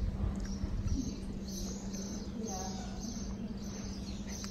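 Songbirds chirp and twitter outdoors at a poolside breakfast in Italy, with repeated short high calls at moderate distance over a steady low background hum.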